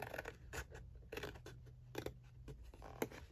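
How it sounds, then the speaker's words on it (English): Scissors cut through a folded sheet of paper along its crease in a series of quiet, intermittent snips and scrapes, close up and faint, with no talking. "just cutting down along that fold line"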